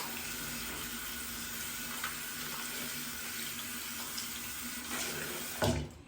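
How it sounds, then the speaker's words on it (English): Tap water runs steadily to rinse the head of an electric facial cleansing brush, a continuous close splashing flow that swells briefly near the end. "Rinse the brush head off."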